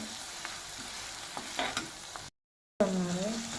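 Onion, garlic and green chili sautéing in a pan for Indian-style pasta: a soft steady sizzle with a few stirring clinks, a brief silent gap, then a louder sizzle.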